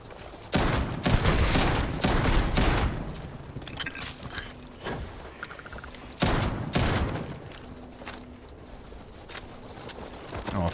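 Gun fired in Starfield: several sharp, loud shots spaced irregularly over about ten seconds, each a broadband crack with a short decay, set against soft ambient game sound.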